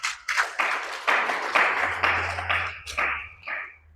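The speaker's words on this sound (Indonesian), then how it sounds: "Wah, tepuk tangan bagi Tuhan kita." Church congregation clapping together in a worship service, a dense, sustained round of applause with some individual claps standing out, close and fairly loud, with a low hum underneath.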